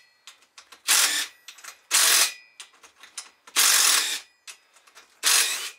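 A ratchet tool loosens flange bolts on van seats in four loud, close bursts of rapid clicking, with lighter ticks and taps between them.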